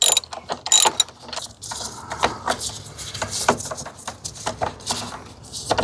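A ratcheting wrench clicks rapidly and steadily while loosening the battery hardware on a 2022 Jeep Renegade, close and loud with a continuous pawl rattle.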